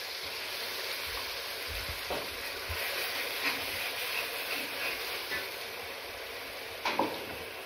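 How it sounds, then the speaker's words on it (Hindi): Panch phoron spice mix frying in refined oil in a home kitchen gives a steady, soft sizzle and hiss, with a few faint stirring clinks and scrapes. "मसाला भून लिया है। रिफाइंड तेल से बना रहे हैं"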